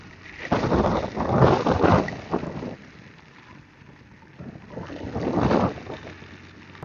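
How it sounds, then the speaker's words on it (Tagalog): Heavy monsoon rain pours during a storm, a broad rushing wash that swells in two loud surges with gustier, rumbling bursts between them, steady and close throughout with no talk. "Galit na galit yung ulan."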